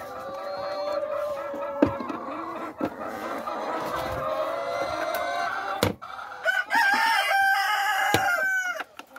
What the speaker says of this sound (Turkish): Horozlarımız da biz konuşuyoruz diye gövde gösterisi yapıyorlar.